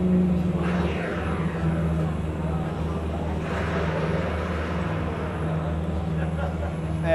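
An attack helicopter fires on the tank in a HAVELSAN M60 tank simulator, a steady droning engine and rotor roar that runs throughout beneath ongoing talk.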